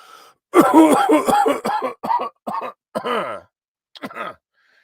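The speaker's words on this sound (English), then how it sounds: "Oh, made me cough." A string of harsh, close coughs in quick succession, followed by a pause and a final shorter pair of coughs.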